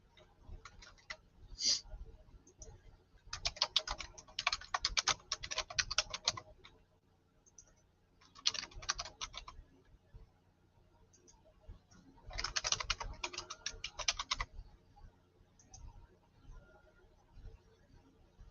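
Computer keyboard typing arrives in several quick clattering bursts separated by quiet pauses, close and fairly soft, with no talking.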